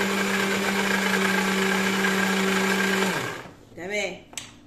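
A blender whirs loudly with a steady motor whine as it mixes a sesame tahini mixture with oil, running for about three seconds before cutting off abruptly into quieter kitchen sounds and a brief voice.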